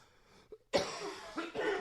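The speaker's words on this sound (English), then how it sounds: "Not like we're doing any better with our coughing" Several harsh, close coughs in a small home recording studio, starting with a short one and followed by a louder fit of two or three bursts.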